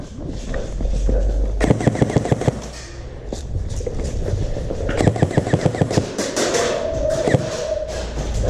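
Airsoft guns fire at a paintball arena in rapid bursts of sharp snapping shots, two close volleys separated by a pause, with voices and movement in between.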